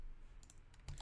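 A few quick computer keyboard keystrokes, close and crisp, come in two small bursts over a low background hum.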